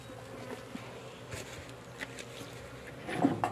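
A small bee swarm in a hive box hums in a steady, faint drone, with a few louder buzzing passes near the end.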